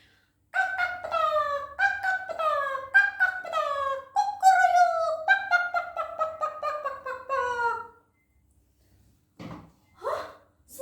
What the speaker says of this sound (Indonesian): Hah, suara ayam!